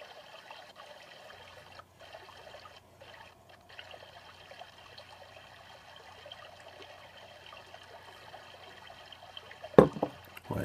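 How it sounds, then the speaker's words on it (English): Water trickling and flowing steadily in a cloud forest, a soft continuous stream at moderate distance, with a brief louder splash or knock near the end. "Just give me 2 minutes of this water."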